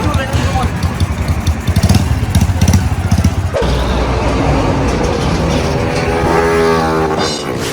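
A motorcycle fitted with an aftermarket Lam Luk Ka exhaust pipe revs loud and close, its engine rising and falling in rough bursts before settling into a droning tone, while people talk over it.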